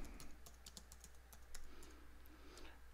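Keys clatter on a computer keyboard at a steady, brisk pace throughout, close and fairly quiet, with a faint electrical hum underneath and no talking.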